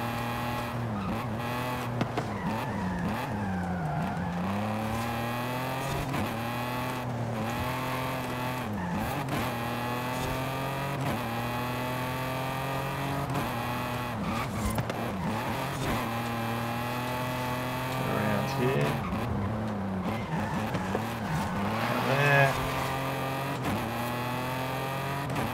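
Engine drone with tire skids from a car being driven hard in the video game Forza Horizon 5, touge-style, revving steadily with pitch sweeps and several squealing slides, loud and continuous with no talk.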